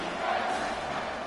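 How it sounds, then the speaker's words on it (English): Stadium crowd roar in a football video game, a dense, steady wall of cheering and noise at full volume throughout, with no breaks. "this crowd is tearing the lid off this place"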